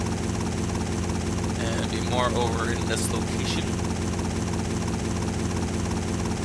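Helicopter in GTA Vice City Stories keeps up a steady, loud rotor and engine drone throughout, with someone talking over it in the middle.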